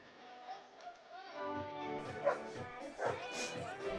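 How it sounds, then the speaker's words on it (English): A dog barks at intervals in the crowd at a Michigan State versus Ohio State football championship game, distant and partly masked by stadium noise and people talking. "I heard dog barking again."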